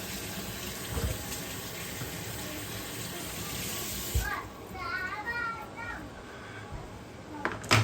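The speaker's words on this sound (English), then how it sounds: "Wash my hands now." A tap runs steadily into a sink as hands are washed, a broad rushing hiss that stops partway through, followed by a few faint voices and light clatter.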